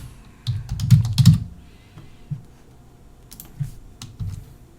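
Typing on a computer keyboard in RStudio: irregular bursts of soft key clicks, close and fairly quiet, with short pauses between runs of keystrokes.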